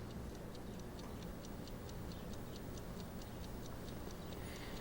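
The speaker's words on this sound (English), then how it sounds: "That ticking clock noise is so fast." A clock in the Tender Loving Care video game ticks quickly and evenly, about four ticks a second, soft and steady against a quiet background hiss.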